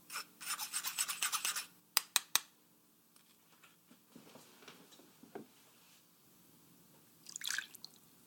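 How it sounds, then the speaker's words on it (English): Tomatoes de-seeded by hand over a strainer, a fast burst of close rasping scrapes, a few sharp taps, then soft wet squelches and drips with another brief scraping flurry near the end. "Just run your thumb through the tomatoes over a strainer to strip the seeds, collecting any juice below."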